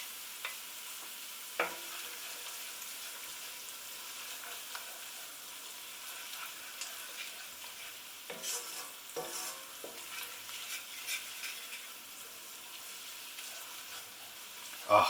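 Garlic sizzles softly in a hot pan while a utensil stirs it, giving scattered scrapes and clicks over a steady fry with no talking.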